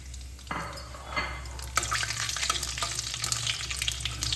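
Black cumin seeds, two bay leaves and dried red chilies are dropped into hot oil and burst into a loud, crackling sizzle that starts sharply and keeps spitting close by.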